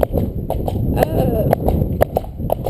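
A horse cantering in a steady rhythm of hoofbeats, close and distinct, heard beneath a voice speaking throughout.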